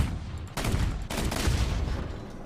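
An ammunition rack blows up on a ground vehicle in War Thunder, a heavy booming burst followed by a second explosive blast, loud and close with rumbling debris.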